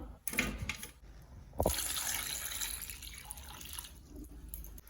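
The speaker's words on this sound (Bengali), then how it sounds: "এবার কচুটা ঢেলে নেব আর দিয়ে দেবো সামান্য ঠান্ডা জল" Cold water poured over drained boiled taro in a home kitchen, a steady splashing pour that swells partway through and keeps running, close and fairly loud.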